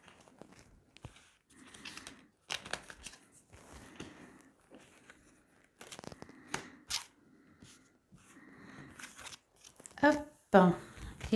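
Tarot cards being drawn and handled: irregular bursts of shuffling, flicking and soft card slaps, close and fairly quiet, with a few sharper snaps toward the end.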